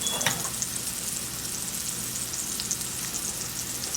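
Salmon pan-searing in a hot pan gives a steady, close sizzle and crackle that runs unbroken throughout, with no voices over it.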